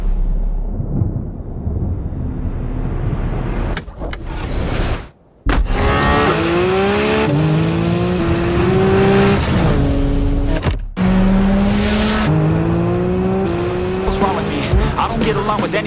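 A Porsche 718 Spyder RS with a high-revving flat-six engine screams through the gears, rising pitched wails cut by sharp shift breaks, loud and close, with a brief near-silent gap midway.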